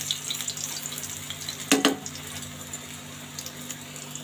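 Eggplant slices fry in oil in a pan with a steady, close sizzle, broken once by a brief clatter near the middle.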